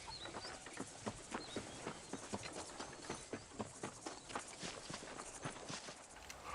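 Horse hooves clip-clop in a steady walking rhythm in the Western game Red Dead Redemption, close and fairly quiet, with faint birdsong in the background.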